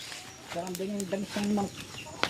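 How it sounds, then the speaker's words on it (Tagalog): Chickens clucking close by in a couple of short bursts, with a faint outdoor background. "Ay, mga manok dyan."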